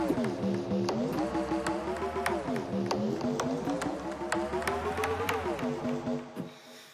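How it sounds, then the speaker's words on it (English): Sampler bass in Logic with glide on, notes sliding smoothly from one pitch to the next in a steady line over a beat with tapping percussion, fading out at the end. "I've added a bit of glide to the sampler this time"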